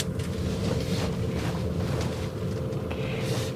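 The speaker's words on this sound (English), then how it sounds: "What we're hearing is just tire noise." Steady broadband road and tire noise from a 2021 Ford Mustang Mach-E electric crossover driving with no engine sound, a continuous rushing hum with faint wind.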